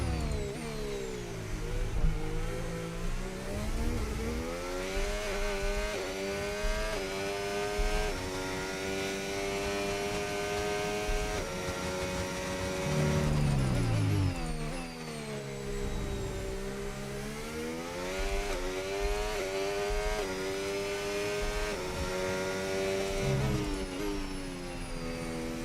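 An F1 car engine racing in the F1 25 video game at Austria, a loud high-revving whine rising and falling through gear shifts with steady doppler-like sweeps, running continuously with no talk.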